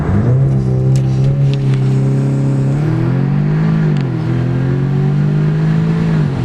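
An Audi S3 with an intake and turbo muffler delete launches, its engine revving hard in a loud, steady roar with pitch swells and turbo whoosh, close up and without talk.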